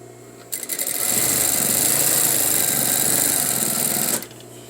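A sewing machine runs in one steady, fast-whirring burst of about four seconds as it stitches fabric close to a folded edge on an all-in-one facing, starting and stopping sharply.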